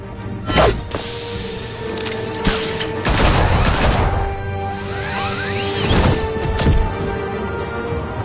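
Gunfire and action effects from Batman: The Telltale Series video game fill a loud, dense stretch with booms, crashes and rapid shots layered over a continuous score.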